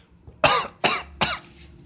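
A person coughs three times in quick succession, each cough sharp and close, with short pauses between and no talking.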